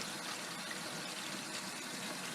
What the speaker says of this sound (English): just let the cold water run into the pan for a while